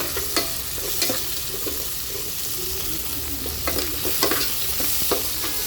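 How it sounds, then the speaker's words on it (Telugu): Onion pieces frying in hot oil for paneer butter masala, a steady loud sizzle with scraping stirs from a spoon in the pan, close up and without talk. "ఆయిల్ కాగిన తర్వాత ఉల్లిపాయ ముక్కలు వేసుకోవాలి దాన్ని కలుపుకోవాలి ఒకసారి"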